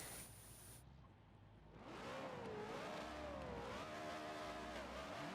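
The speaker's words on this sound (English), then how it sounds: "we'll listen to the screaming noises from the 4-rotor" A four-rotor rotary race car engine screams at high revs on track at Sonoma, rising and falling in pitch as it accelerates, loud and close, after a brief quieter stretch at the start.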